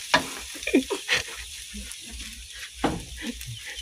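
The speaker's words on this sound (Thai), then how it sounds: "พริกแกงมาผัดก่อนครับ" Curry paste for Korat-style nam ya being stir-fried in a pan, giving a short spell of sizzling broken by a few sharp scraping stirs, fairly close and alone.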